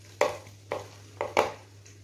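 Onion frying in hot ghee in a pan while being stirred, with four soft scraping and sizzling strokes at a steady pace over a low background hum.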